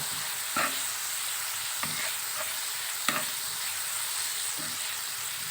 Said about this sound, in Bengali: এখানে আমার মশলাটা সুন্দর করে আমি কষিয়ে নিচ্ছি দেখুন দারুণ একটা কালার আসছে এবং সুন্দর করে তেলটাও বেরিয়ে আসছে